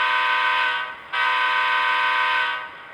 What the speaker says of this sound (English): That's the forward horn.